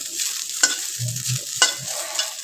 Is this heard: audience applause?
no